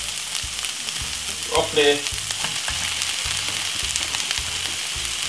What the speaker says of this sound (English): So now we're gonna put in some mince.